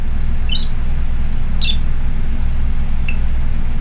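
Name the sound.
bird tweeting computer sound scheme effect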